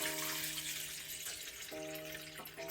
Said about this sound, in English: I'm just gonna rinse it and just pour it off